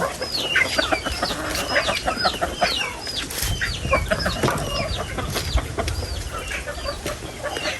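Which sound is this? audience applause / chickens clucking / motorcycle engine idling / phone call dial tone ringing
chickens clucking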